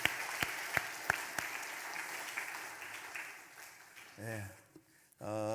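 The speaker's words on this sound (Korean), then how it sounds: "박수하시겠습니다" A church congregation applauds during a Sunday worship service: a dense patter of clapping with a few sharper claps standing out, fading after about four seconds as voices take over.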